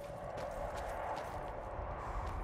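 Horse hooves clip-clop in Skyrim, likely from the black horse Shadowmere, as a faint, rapid run of soft beats over a constant background hum, with no talking.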